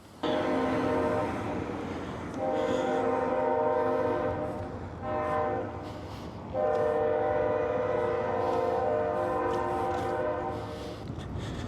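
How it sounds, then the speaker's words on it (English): A train passes through a downtown area with its horn blaring loudly in long, sustained blasts, broken by brief gaps, over a steady rumble of rail noise close by. "the train is passing, but it is super loud"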